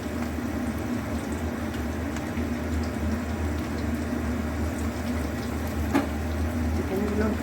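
Chicken pieces frying in mustard oil in a home kitchen, giving a steady, even sizzle and bubble at moderate loudness that holds throughout with no break.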